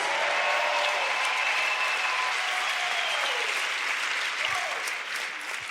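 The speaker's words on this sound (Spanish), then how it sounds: "Dele un aplauso a Jesús." Sustained applause from a church congregation giving praise to Jesus during a pastor's sermon, a steady even wash of clapping that holds throughout with faint voices mixed in.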